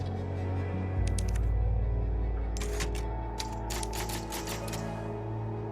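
The typewriter save sound in the Resident Evil 4 Remake video game: a low mechanical hum under bursts of crisp typewriter key clacks and clatter, close and moderately loud, with no speech.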